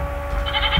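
Goats bleat in a Minecraft-style video game called Creepcraft: a short, close, moderately loud bleat rising at the end, standing alone with no talk over it.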